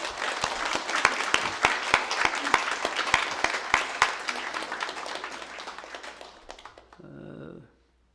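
A church congregation applauds together during a Sunday worship service, a lively burst of clapping that fades out after several seconds, followed by a brief murmur.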